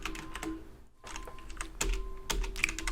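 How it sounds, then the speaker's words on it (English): Rapid, uneven typing on a computer keyboard while coding a Tic Tac Toe game in Unity, with close, crisp key clicks in bursts and a brief pause near the one-second mark. "Having typing issues today here."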